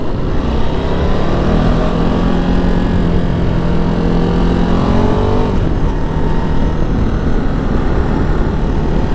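A Ducati Multistrada V2S motorcycle on a cold day with new tyres roars steadily underway, its engine drone and wind rush loud and continuous, pitch rising through a gear before shifting down near the end.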